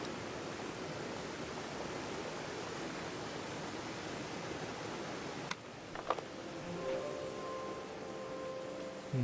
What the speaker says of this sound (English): let's see if we can get a recording of the waterfall